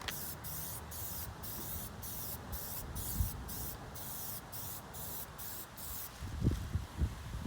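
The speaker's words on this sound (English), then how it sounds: "I'm gonna start spraying." Plasti Dip sprays from an aerosol can onto Subaru rims outdoors in the wind, a series of about a dozen short, even hissing bursts in steady rhythm over a low background rumble.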